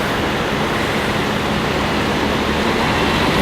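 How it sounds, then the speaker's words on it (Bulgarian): Steady broadband rumble and rushing roar of a metro train passing close by, continuous and loud throughout with no talking. "Тук е метрото. И тук се движи."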